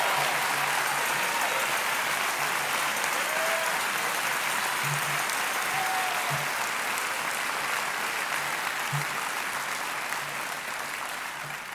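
Long, loud ovation from a large audience for Reverend Jesse Jackson at a Rainbow PUSH Coalition event, dense continuous clapping that holds steady and slowly tapers, with faint voices beneath.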